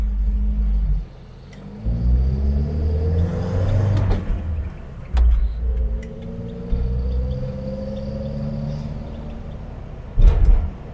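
An old 1960 Standard Vanguard Vignale engine rumbles low and close, slowing with a brief squeal of drum brakes, then idling before a short thump near the end, in a quiet industrial estate.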